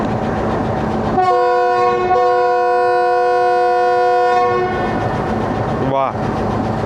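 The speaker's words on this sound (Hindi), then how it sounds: "फर्स्ट डिपार्चर विसल, और इतना ज़ोरदार नहीं था जितना एक्सपेक्ट किया था।" Departure whistle of a Pakistan Railways GU20 4554 locomotive on a Lahore to Havelian train, one sustained tonal blast of about four seconds with a short toot after, loud over station noise.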